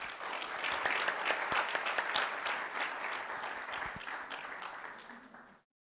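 An audience applauds at a guide dog graduation ceremony, sustained clapping from many hands at moderate distance, steady for about five seconds before cutting off abruptly.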